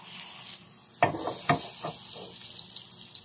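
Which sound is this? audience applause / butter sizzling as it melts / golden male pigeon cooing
butter sizzling as it melts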